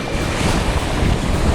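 Strong wind rushing across the microphone with breaking sea waves while windsurfing, a loud continuous roar with no voices.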